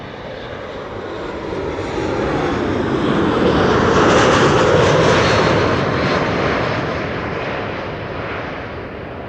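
Airliner landing at Amsterdam Schiphol Airport on a sunny day, a loud jet engine roar that swells to a peak midway and slowly fades, heard up close with no voices.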